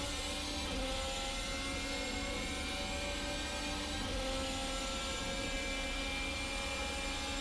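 Formula Hybrid 2020 open-wheel race car engine at full throttle in a racing sim, a constant loud high-revving roar that holds steady without pause.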